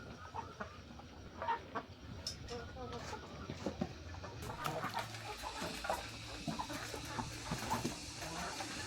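A flock of chickens clucks on a rural farm in Vietnam at feeding time, with scattered calls near and far over a busy outdoor background, alongside pigs, and some voices murmur in the mix.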